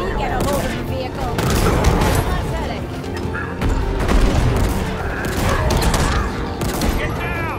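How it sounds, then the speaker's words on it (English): Rapid gunfire and booming blasts from a firefight in the video game Halo Infinite, dense and continuous across the clip, with shouted combat voices mixed in. "We're under fire!"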